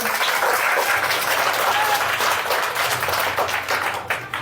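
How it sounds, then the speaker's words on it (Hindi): A crowd at a political organization gathering claps loudly and steadily, a dense sustained wash of applause filling the whole stretch and easing slightly at the end. "तो एक बार तालियां चलो अपने संगठन के नाम पर बजा लो।"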